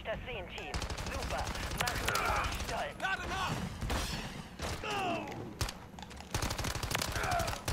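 Rapid automatic gunfire from the shooter game Call of Duty Modern Warfare 3, dense bursts of shots repeating steadily throughout with brief gaps, while players talk over it.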